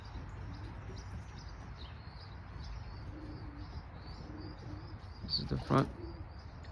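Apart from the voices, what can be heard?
pigeons cooing in loft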